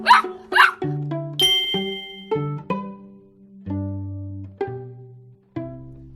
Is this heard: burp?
no